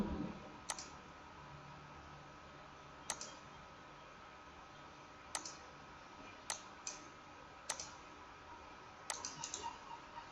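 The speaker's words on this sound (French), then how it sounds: "Je clique droit, File, Target Configuration, Finish." A computer mouse clicks sharply and sparsely, about eight clicks spread out with a quick cluster at the end, over faint steady hiss in a quiet room while a DSP simulator is set up.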